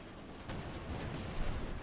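Explosions and artillery fire in the WWII strategy game Company of Heroes 2 roll on as a faint, continuous rumble, with one distinct thump early and low booms churning underneath.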